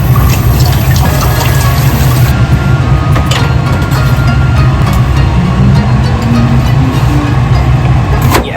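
Tap water runs loud and continuous as komatsuna greens are washed at a kitchen sink, a dense steady splash with occasional clunks and rustles of the leaves under the stream.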